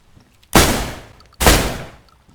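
Two loud, sharp gunshots about a second apart, each with a booming burst and a short decaying tail, heard alone.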